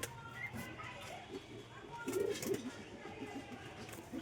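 Andhra Madras breed pigeons coo in a short, soft burst midway, fairly close, while a person talks over a low background hum.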